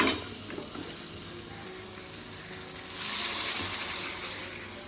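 Hot water poured into sizzling gravy in a wok, with a soft crackling sizzle that turns into a broader, louder hiss partway through, along with faint clinks from the pan.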